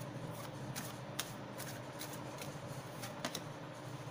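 Tarot cards shuffled and laid down by hand, a close, quiet, continuous riffling with light flicks and taps as cards are dealt.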